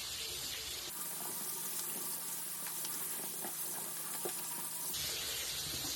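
Running tap water pours steadily over hot cooked food being rinsed in a kitchen sink, a continuous hiss that runs for about four seconds before stopping.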